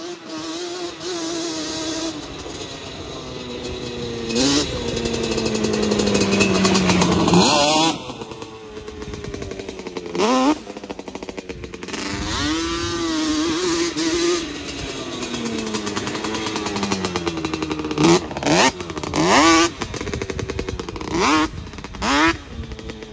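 A Yamaha Banshee 350 and a KTM 450 ATV rev their engines off-road, loud rising and falling revs with sharp throttle blips and repeated bursts of acceleration.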